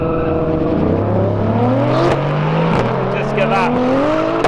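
Cars roar past at speed at a Vmax 200 event, loud and continuous, with engine tones sliding downward as they pass close by and a further car flashing past near the end.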